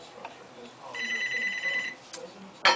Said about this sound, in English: Of course, the phone will ring.